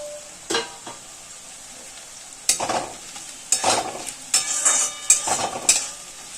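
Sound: garlic and chopped green chilli frying for prawn curry

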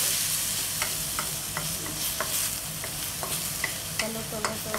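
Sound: sautéing in a frying pan

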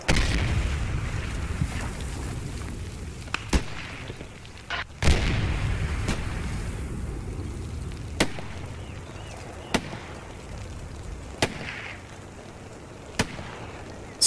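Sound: enemy artillery fire, from the video game Post Scriptum

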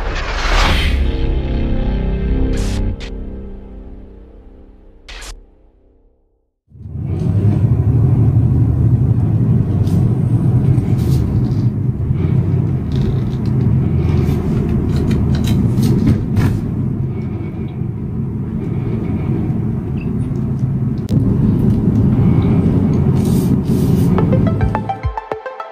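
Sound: Chevy SS exhaust with long tube headers, rattle fixed

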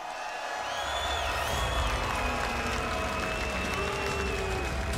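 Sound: mixed crowd reaction at esports event

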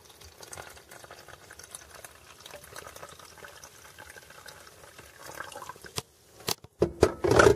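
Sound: pouring cold lemonade from a thermos

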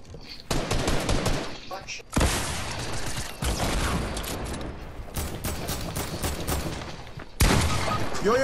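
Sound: gunfire from a shotgun in Fortnite video game

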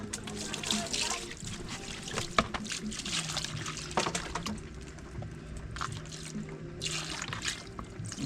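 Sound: water running while washing dishes

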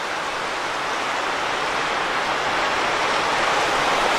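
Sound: waterfall on Octoraro Creek under a covered bridge

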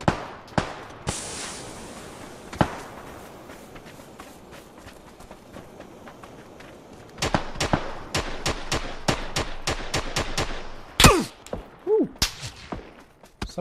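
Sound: gunfire in PUBG video game

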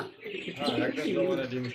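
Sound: pigeons cooing, a pair of Sirazi pigeons for sale

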